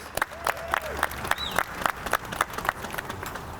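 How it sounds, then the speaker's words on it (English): A small outdoor crowd claps sparsely at an Assyrian New Year flag-raising ceremony by the Unity Fountain at City Hall, with distinct individual claps in an uneven rhythm, a few faint whistles or cheers, and soft background murmur. "Let's have a round of applause, please."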